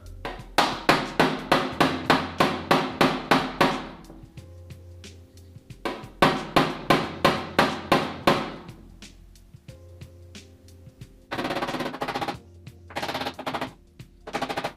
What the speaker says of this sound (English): take a dolly, just put it in behind, and then take this kind of pick hammer